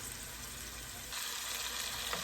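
Onions frying in a pan for noodles: a continuous close sizzle with faint stirring that grows louder and brighter partway through.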